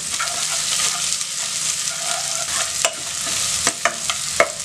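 Onion and curry leaves fry in a pan for a vegetable white kurma, a dense continuous sizzle close by with a few scraping stirs and clicks toward the end.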